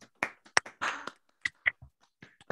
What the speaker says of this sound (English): please briefly unmute yourselves, and let's give a warm round of applause to Daniel Epstein.